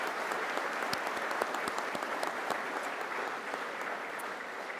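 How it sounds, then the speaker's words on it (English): Steady applause from a crowd at a nursing graduation ceremony, many hands clapping continuously at a moderate distance without any talking. "Let's give them all a round of applause."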